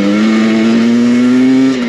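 A 2023 Husqvarna TE300i dirt bike engine holds a loud, close, sustained rev with a steady droning buzz that climbs slightly in pitch before easing off at the end.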